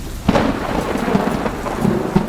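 Heavy rain falls steadily, with loud thunder rumbling and cracking close by over the hiss of the downpour.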